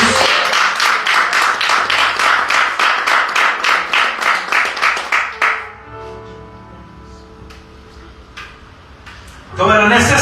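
A Pentecostal church congregation claps in rhythm at a communion service, loud, dense and steady for about five seconds before breaking off, leaving a quiet reverberant room with faint scattered sounds until a short burst of clapping returns at the end.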